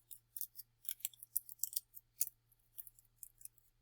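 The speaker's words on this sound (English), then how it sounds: "So I am going to I'm kind of folding my foil." Thin aluminium foil being folded by hand, producing a quick series of crisp, crinkly snaps and rustles in irregular bursts, close and fairly quiet against a low steady hum.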